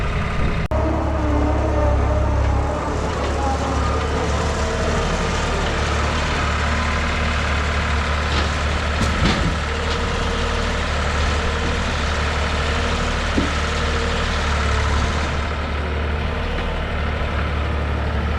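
New Holland LS180 skid steer engine running while moving a pile of logs, a loud, continuous low engine rumble close by, steady throughout with slight rises in load and occasional faint knocks.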